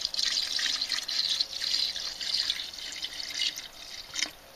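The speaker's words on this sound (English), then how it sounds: "all I probably need to add is a little dash of hydrochloric acid" A dash of hydrochloric acid poured into a copper-dissolving solution during gold recovery from electronic scrap: a soft, continuous liquid trickle and splash, faint and close, with no talking.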